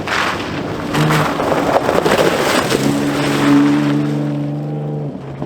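A Ford Raptor truck drives off-road through mud, its engine droning and rising in pitch amid splashing and wind noise as it pushes through.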